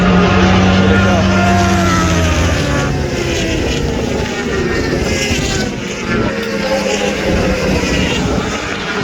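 Racing motorcycles in the Daytona 200 scream past trackside in a continuous loud wash of engine roar, layered whines rising and falling as bikes of differing speeds go by, with a commentator talking over it.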